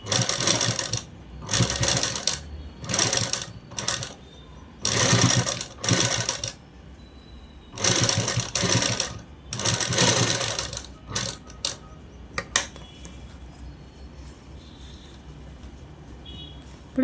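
A sewing machine stitches a child's frock in rapid mechanical chattering bursts of one to two seconds, separated by brief pauses, loud and close, then trails off into quiet handling sounds.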